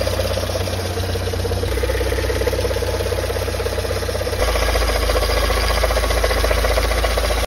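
Car engine running with a steady mechanical drone and rhythmic chopping, like a helicopter, from a suspected worn pulley or compressor bearing; the noise continues loud and close without talk and shifts slightly partway through.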